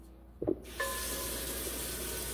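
Tap water runs steadily into a steamer pot, a continuous rushing gush that starts after a brief clink and stays even, close and alone without talk.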